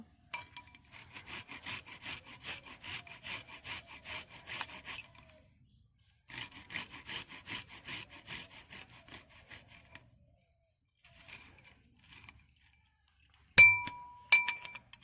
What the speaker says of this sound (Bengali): এবার আমি পেঁয়াজগুলোকে ঘষে নেব।